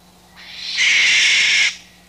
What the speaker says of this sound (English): a barn owl